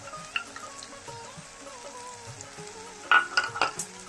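Ginger garlic paste sizzles and fries with softened tomato masala in a pan for a chicken liver chocchori, a steady low sizzle with a few louder stirring scrapes near the end.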